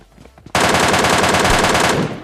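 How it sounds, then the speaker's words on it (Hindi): An M249 machine gun in the video game PUBG Lite fires one loud, sustained burst of rapid shots lasting about a second and a half, right after a faint murmur of voice. "इनके पास कौन सी वेपन होती है जरा सुनो, M249"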